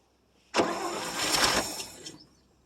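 A 1959 International B120 4x4 truck engine turning over on its first cold start in about five years, a loud, steady burst of cranking lasting about a second and a half and then trailing off, close up with no talk.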